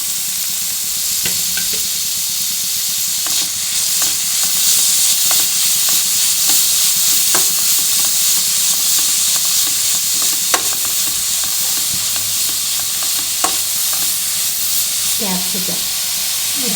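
Vegetables for momos sizzle steadily in a hot pan, with intermittent scrapes and clicks of a spoon stirring through the loud frying hiss.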